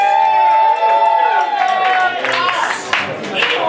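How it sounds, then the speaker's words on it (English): A comedy show crowd claps and cheers loudly for a returning performer, a busy wash of applause and whoops, with voices calling out over it. "Everyone, give that a round of applause"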